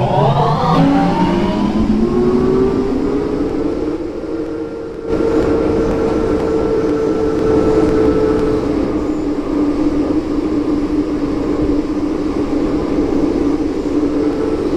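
An MTR Tsuen Wan Line train running through a tunnel, with a loud, steady rumble and a rising then leveling tonal whine from the motors, heard from inside the carriage with no talk.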